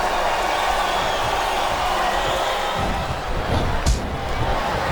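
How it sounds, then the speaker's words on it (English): Crowd noise from a WWE SmackDown vs Raw 2008 video game wrestling match, a loud steady arena roar that sounds like chanting, with a sharp slam or impact near the end. "Wow, listen to that chant."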